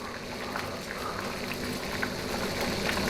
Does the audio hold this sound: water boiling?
yes